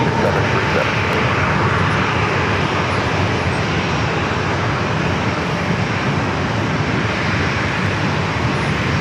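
An Alaska Airlines Boeing 737 takes off from San Diego airport, its engines producing a loud, unbroken roar that stays steady and close throughout.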